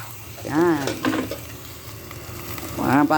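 Chayote dropped into a hot pan already holding ginger, onion and lemongrass, frying with a steady sizzle and stir, while a voice talks briefly over it at the start and end.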